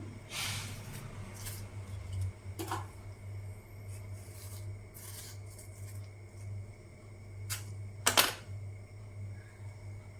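Knife cutting three tomatoes for a chicken curry: faint, scattered slicing and rasping strokes with irregular pauses over a low, quiet hum, including one sharper cluster of cuts near the end.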